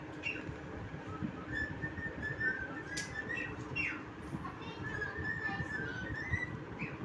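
A pet cockatoo sings in thin whistled warbling phrases, several wavering notes spaced over a steady low room hum, with a few sharp squawk-like bursts between them.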